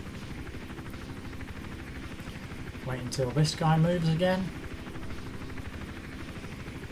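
A helicopter in Hitman Absolution thrums on as a steady, low, rhythmic rotor drone beneath the game's sounds, while someone talks briefly over it in the middle.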